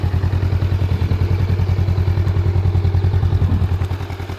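A motorcycle with 1,900 kilometers on it idles in neutral close by, a loud, steady, throbbing engine with a rapid even pulse and light mechanical clatter throughout.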